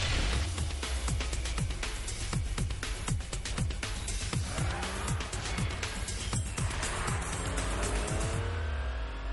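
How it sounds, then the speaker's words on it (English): A noisy car drives along a straight road and passes close by, its loud engine note rising as it approaches and dropping as it recedes, a steady roar throughout with no talking. "As the car approaches, the pitch of its engine rises. As it goes away, the pitch of its engine falls."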